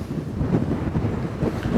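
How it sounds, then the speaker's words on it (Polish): Steady low rumbling buffeting of wind hitting a microphone, continuous and close, with no voices. "O, znowu wiatr się tutaj tak wzmógł."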